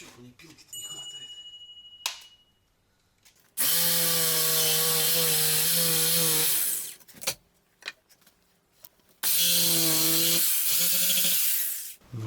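Hand saw cutting wood while a brick fireplace is built in a house, two long bursts of loud, steady back-and-forth sawing with a pause between, and brief voices and knocks around them.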